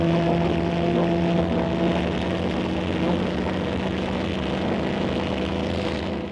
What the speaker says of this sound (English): Vertical takeoff, one way of freeing aircraft from the weight of landing gear,